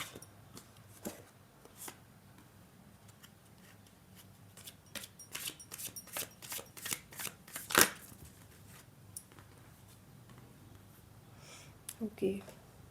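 Tarot cards are handled and shuffled in a series of soft, irregular riffling taps and slaps, with one sharper snap midway, while a voice talks quietly in the background.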